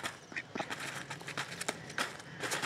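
Turkeys calling while feeding: short, nasal, irregular clucks and squawks, fairly faint and spread through the moment, with soft outdoor background noise.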